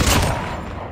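Gunfire in a sniper video game, a dense burst of loud overlapping shots with a booming low end filling the whole second, no voices.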